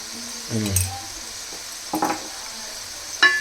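A spoon stirs a potato fry curry seasoned with chili powder in a pan over a soft sizzle, with a few scrapes and clinks and a brief voice.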